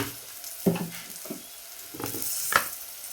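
Turmeric, chilli and coriander powders sauté with tomato in a hot pan: a close sizzle and frying hiss, with short scraping bursts as a spatula stirs the mixture.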